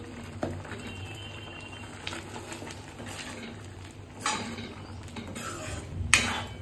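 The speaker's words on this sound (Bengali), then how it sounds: "কয়েকটা আম আমি এইভাবে একটু মেখে দিচ্ছি, তাহলে ডালটা আরেকটু টক হবে" A spoon clinks and scrapes against a pot while mango pieces are mashed into simmering dal, with soft irregular knocks and a couple of sharper clatters near the end.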